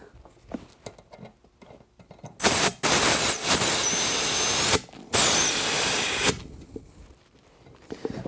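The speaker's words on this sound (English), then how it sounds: "take the compressor to add just a little bit of shape to the tube" Air compressor blowing air into a lawn mower tire inner tube, a loud close hissing rush in two bursts of about two seconds each, separated by a short pause, with quieter workshop handling noise before and after.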